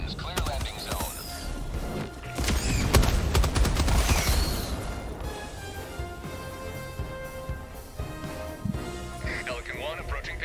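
Machine gun fire in the video game Helldivers 2, rapid bursts of automatic shots crackling densely at first and then thinning out, mixed with other game effects and talk throughout.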